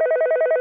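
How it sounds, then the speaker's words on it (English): A telephone ringing in one short, loud electronic trill, a rapid warbling tone that pulses about ten times in under a second, clear and alone. "Michael woke to the sound of the phone ringing."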